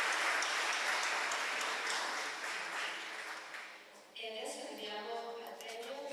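Applause for architecture award winners at a ceremony in Palazzo Colonna, broad steady clapping that fades out, followed by a voice starting to speak.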